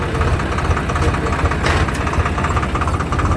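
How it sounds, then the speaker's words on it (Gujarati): A tractor engine on a farm runs at a low, steady idle with a rumbling, knocking throb close by, and a voice speaks over it briefly. "ચાલો હવે ટ્રેક્ટર ચાલુ કરીએ।"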